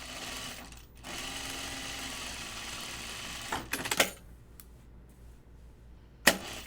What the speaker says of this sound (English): So I'm just gonna top stitch the yoke now.